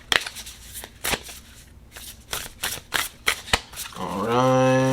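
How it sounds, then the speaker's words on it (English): Oracle deck from a self-care wisdom set being shuffled by hand, a series of sharp riffling snaps and card slaps in an irregular rhythm, close and fairly loud, ending in a sustained tonal hum. "we're just going to go ahead and shuffle"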